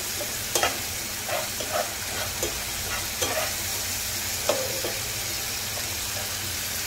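A spice paste is stir-fried in a pan, a constant sizzle with regular spatula scrapes and taps recurring every second or so, close and clear.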